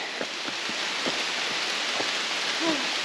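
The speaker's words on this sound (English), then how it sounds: "we hear the rain more than we feel it" Rain patters steadily through a dense Vermont forest on the Appalachian Trail, with scattered louder drops, and a brief hooting call rises near the end.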